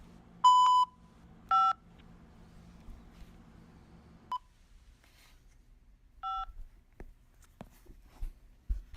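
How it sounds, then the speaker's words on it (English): Keypad tones on a Global Tel Link prison phone system: a few short, distinct dialing beeps, clear and close, with quiet gaps and faint clicks and shuffles between them. "Say or dial 5 now."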